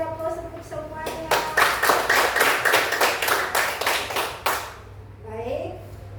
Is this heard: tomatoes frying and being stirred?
no